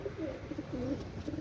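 Pakistani high-flying Lakha and Teddy pigeons cooing at close range, several soft rolling coos repeating through the moment with no talk over them.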